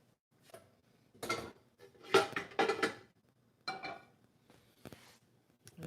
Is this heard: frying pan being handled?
yes